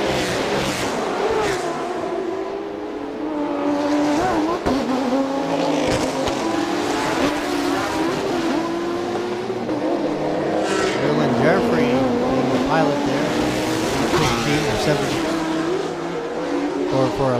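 A race car at a 2018 TSS circuit event makes a high-speed run, its engine roaring and shifting close by and loud with a faint tire squeal, under a commentator's steady talk.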